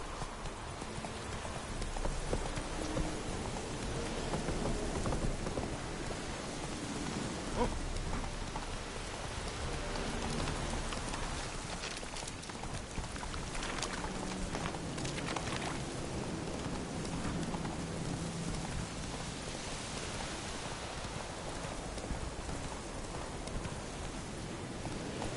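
Roach, the horse in The Witcher 3, trots with steady clip-clopping hooves through a constant hiss of rain, the hoofbeats fairly faint beneath the downpour.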